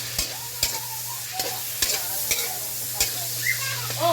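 Coconut milk being added to squash cooking in a pan, with a spoon scraping and stirring in a steady rhythm of soft knocks over a low sizzle, close up and with no talking.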